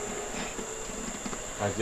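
A freshly removed colony of bees in Ghana during a hive transfer, a continuous close insect buzz with a steady high whine and faint background noise, alone without talk.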